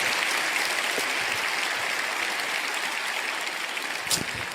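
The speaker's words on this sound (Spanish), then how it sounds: "Así que denle un aplauso a todos ustedes," Church congregation applauding, a broad steady patter of many hands clapping at moderate loudness, slowly easing toward the end with an occasional louder clap or cheer rising from the crowd.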